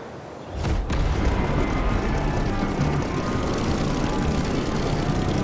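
A propeller aircraft takes off in the racing game The Crew Motorfest over Hawaii, its engine roar swelling abruptly after a brief quiet start into a steady, loud, broadband drone that holds to the end.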